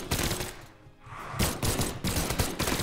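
Rapid gunfire from guns in the video game Brawlhalla, dense bursts of loud shots that dip briefly and then resume in a busy, continuous volley.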